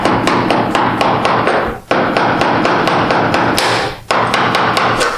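A chisel is tapped by hammer along the rear deck of a Triumph TR4, a steady series of sharp close metallic knocks, with two brief pauses in the rapid rhythm.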